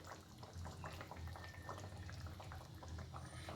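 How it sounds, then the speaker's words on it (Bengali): Raw mustard oil poured over a simmering hilsa fish dish: a soft, continuous bubbling and trickling liquid sound at low volume, with no one talking. "দিয়ে দিচ্ছি সর্ষের তেল"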